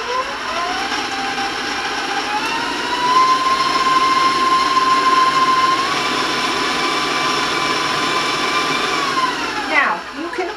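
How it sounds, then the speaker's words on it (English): An electric hand mixer whirs loudly and steadily as it beats butter with half a cup of oil for a four-layer yellow cake batter, its pitch shifting slightly mid-run before a brief clatter near the end. "So I'm going to turn on the mixer."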